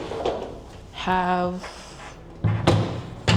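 Wooden drawers in an art studio, some fitted with foam tool inserts, slide open and shut with a scraping rumble and a couple of dull knocks, close by, while someone talks.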